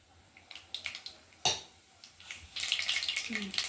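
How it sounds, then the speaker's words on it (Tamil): Mustard seeds spluttering in hot groundnut oil, with a sharp pop early on and then a steady crackling sizzle that builds toward the end, heard close up. "கடுகு பொரிஞ்சுட்டுங்க."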